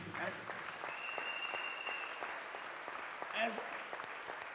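A church congregation claps for Jesus Christ during a sermon, a faint, steady wash of many hands under a preacher's voice and background talk.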